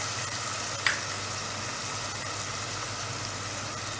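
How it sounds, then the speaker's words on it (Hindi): Whole cloves, cardamom, star anise and cinnamon drop into hot oil for cheekar chole, giving a steady broadband sizzle with a brief clatter near the start, close and continuous. "लौंग, इलायची, बादिया खताई और दालचीनी, ये डालेंगे।"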